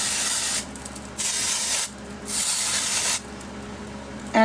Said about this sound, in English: A little bit of dry shampoo.